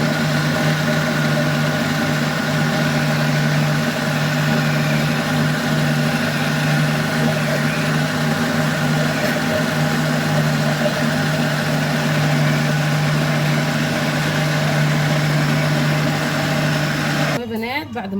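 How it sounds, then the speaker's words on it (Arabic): An electric blender mixing garlic sauce with oil runs with a steady motorized whir and constant droning hum, then cuts off abruptly near the end. "وبرده هرفعها على الخلاط"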